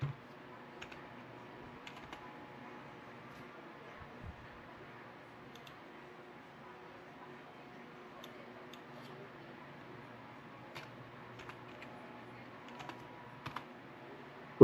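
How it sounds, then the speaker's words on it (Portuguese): A PIN is tapped out on a computer keyboard during a Windows 11 Pro installation: faint, sparse key clicks in short clusters over a quiet room hum, with no voices. "Vamos digitar novamente."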